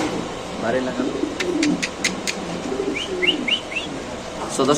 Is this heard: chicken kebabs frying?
no